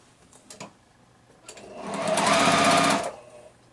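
A sewing machine stitches quilt pieces together for a beginner one-window house quilt block, starting after a few soft handling clicks and running in a steady, close whir for about a second and a half before stopping.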